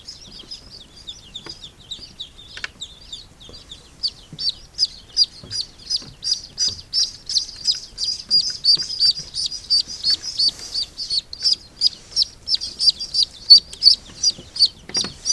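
Newly hatched ducklings peep in rapid, high-pitched bursts that grow busier and more insistent, close by with faint handling noises beneath.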